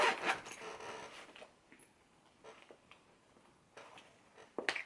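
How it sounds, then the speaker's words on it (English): A zipper is pulled closed on a small clutch bag in several short, raspy strokes, close and quiet, ending with a sharper final zip. "Let's zip that up."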